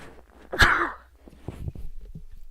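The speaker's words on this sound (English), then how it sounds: "Oops, I'm going to sneeze." A single sharp sneeze, close and fairly loud, followed by a few soft breaths and small mouth sounds.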